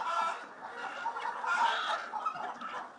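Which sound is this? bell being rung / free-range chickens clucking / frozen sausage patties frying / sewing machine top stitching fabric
free-range chickens clucking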